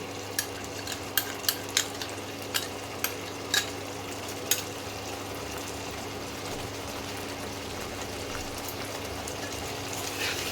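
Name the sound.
ginger garlic paste frying and being stirred for Banarasi mutton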